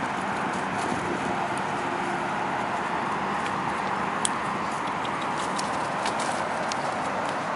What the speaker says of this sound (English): Look at that lope. He has a nice big lope.